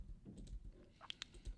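Keystrokes on a computer keyboard during a live stream, a few soft taps followed by two sharp isolated clicks near the end, close and fairly quiet with low background hum.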